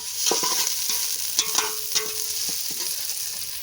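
Onions frying with salt in a pot for biryani, a close, bright sizzle broken by repeated sharp stirring knocks and scrapes of a spoon, with no voices.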